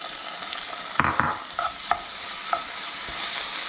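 Cherry tomatoes frying with onion and carrot in oil in a pan, a steady soft sizzle with a few brief clinks and stirring scrapes of a utensil against the pan.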